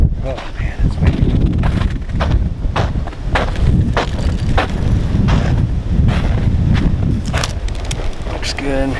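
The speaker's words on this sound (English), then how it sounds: "Oh man, it's windy." Strong blizzard wind blowing outdoors, loud and continuous with heavy buffeting gusts hitting the microphone, and a voice talking under the roar.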